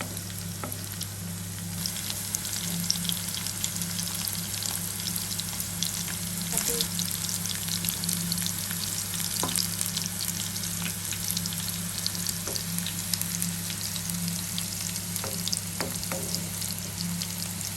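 Bitter gourd pieces frying in hot oil until crisp, a loud, continuous sizzle with occasional faint taps from turning them over, no voices.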